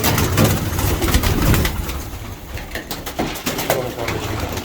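Racing pigeons cooing inside a loft, soft repeated coos close by with fluttering and rustling around them, over a steady background hum.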